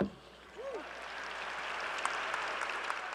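Applause from an audience at a Texas Tech ring ceremony builds after a brief voice at the start, settling into a soft, distant wash of many hands clapping.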